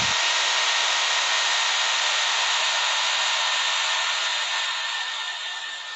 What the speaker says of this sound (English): Yeah, Pete, the drill's on.